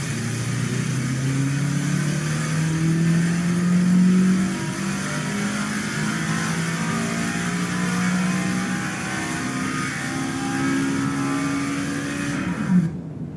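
A race car engine revs hard on a dyno, loud and close, its pitch climbing and sweeping through a sustained full-throttle pull before dropping off at the end.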